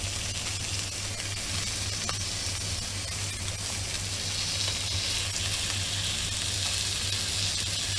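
A thick Greenland halibut steak pan-frying dry without oil gives a steady, bright sizzle with a low hum beneath, constant and close, swelling slightly toward the end.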